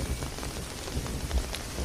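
Heavy rain pours down steadily, a dense wash of drops hitting surfaces with a few louder splatters, close and continuous with no voices.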